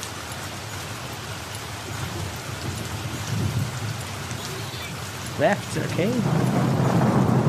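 Steady rain and a dense thunderstorm wash fill the A Blind Legend game soundscape, with low rumbling thunder swelling late in the scene and someone speaking briefly over it.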